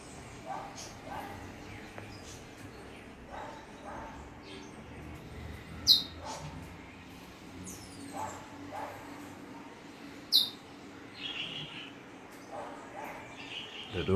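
A bullfinch sings in free song, faint piping notes coming and going over a dim, noisy background, with a few sharper chirps standing out now and then.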